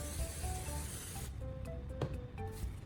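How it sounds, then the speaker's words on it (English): WD-40 sprays onto styrofoam in a steady, close hissing burst for about a second, then stops and comes back as a few short, softer spurts over low background noise. "I'm adding more styrofoam and continuing to spray with WD-40."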